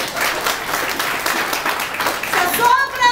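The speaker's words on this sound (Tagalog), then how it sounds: "Palakpak naman." Audience applause fills the room, a steady wash of many hands clapping for about three seconds, with a brief tonal whistle near the end.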